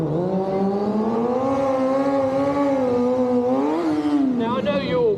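Motorcycle engine at a Scottish bike show, revving hard and steady through a two-up sit-down wheelie, loud and close with a rising pitch near the end.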